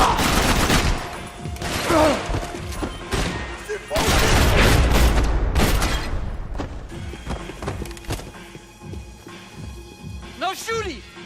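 Gunfire in the Max Payne 3 video game, with loud bursts and booms clustered in the first half, then fading to scattered shots under ongoing voices and game sounds.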